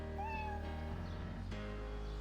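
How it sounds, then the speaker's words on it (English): A cat meows a few times, with short rising and falling cries sitting over a steady low background hum, fairly faint and not close. "That's a cat."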